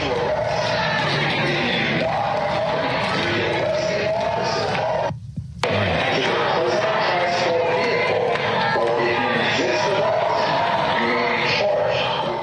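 Crowd of protesters chanting during civil disobedience with police present, a loud, dense wall of massed voices outdoors that drops out briefly around the middle before resuming just as strong.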